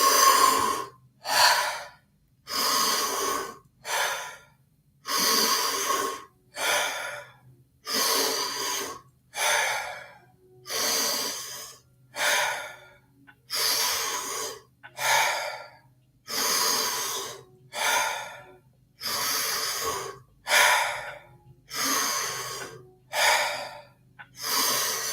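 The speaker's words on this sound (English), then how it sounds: "Now go right back into the breathing." Deep, rhythmic breathing in a Wim Hof method exercise, with roughly eighteen full, forceful inhale-exhale cycles at a steady pace, close and loud, each breath separated by a brief pause, over a faint low hum.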